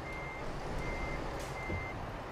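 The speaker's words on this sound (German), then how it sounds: "Das ganze Gepiepe können wir mal ausschalten." Steady electronic reversing beeps from a truck in Euro Truck Simulator 2, a continuous high tone repeating over a constant engine rumble, with no talking.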